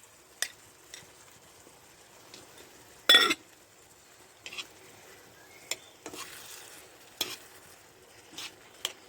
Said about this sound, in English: So that's the chicken cooking away as well now.